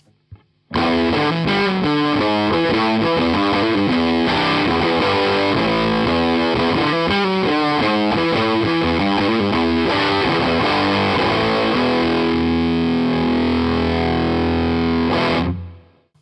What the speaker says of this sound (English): So chances are you'll have heard this type of fuzz on a lot of records.